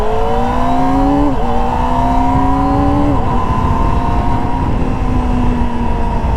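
A 2024 Kawasaki ZX-25R SE motorcycle's four-cylinder engine screams at high revs while being ridden, a loud, continuous whine with brief dips and rises between gears. It is heard close and alone.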